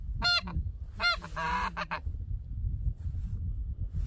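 Wild geese honk on a Kuban hunt, several nasal, clipped calls in quick bursts over the first two seconds, followed by low wind and ambient rumble with the birds falling quiet.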